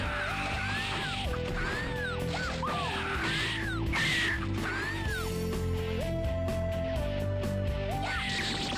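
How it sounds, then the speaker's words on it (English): Harsh cawing bird calls repeat in quick bursts over busy video game music and sound effects on a raft stage, several cries spread across the level. "Birds!"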